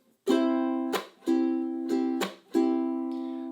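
Ukulele chords strummed alone, each ringing strum cut off by a sharp percussive muted chuck, repeating in a steady even rhythm.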